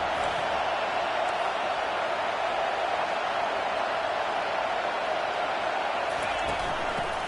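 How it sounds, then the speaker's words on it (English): A football stadium crowd roars in a dense, sustained wash of noise, loud and steady throughout, with no distinct cheers or claps standing out. "This crowd trying to make life miserable for this offense."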